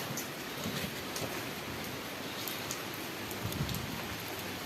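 Light drizzle falls over a yard in the Kannur area, a faint, even patter that holds steady throughout.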